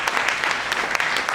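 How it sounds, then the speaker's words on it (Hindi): Applause from an audience at a network marketing training event, brief, dense and energetic clapping with some voices mixed in. "जोरदार तालियां हो।"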